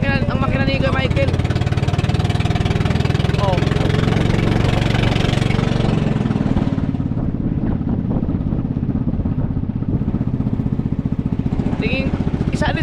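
Five-year-old engine on a fishing boat runs loudly, then settles into a steady low idle with a rapid, even thrum; voices speak briefly over it.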